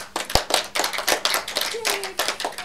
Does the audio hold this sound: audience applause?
yes